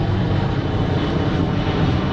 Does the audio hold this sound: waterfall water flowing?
no